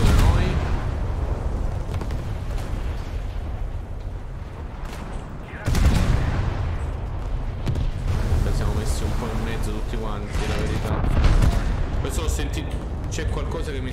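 Booming cannon fire strikes a ship, an American Alaska-class cruiser, in the naval video game War Thunder, with heavy blasts and explosions rolling over continuous battle noise while someone talks.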